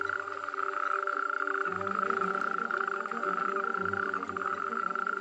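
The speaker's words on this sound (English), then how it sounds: "The males' throats swell and they croak with all their might." A dense chorus of male frogs croaks loudly at night at a breeding lake, their pulsing calls overlapping in steady rhythmic bursts that never pause.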